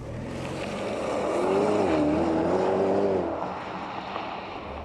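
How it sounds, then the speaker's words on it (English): A 2010 Porsche Panamera accelerates hard to 100 km/h, its loud engine note swelling and climbing in pitch for a few seconds before easing off, with no voices over it. "We're going to find out exactly how fast this Panamera is to 100k."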